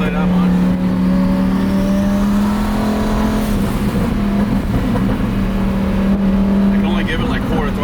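A 1200-horsepower twin-turbo Lamborghini Huracan engine drones loud and steady while driving at partial throttle, the tone rising and falling slightly throughout, with someone speaking over it.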